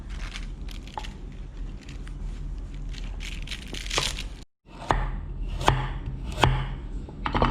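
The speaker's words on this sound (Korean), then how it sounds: "사이즈 먹기 좋게 이렇게 채치면 돼요" A knife julienning leftover holiday vegetables on a cutting board for tofu hot pot, with a steady run of close, crisp chopping strokes and a short pause partway through.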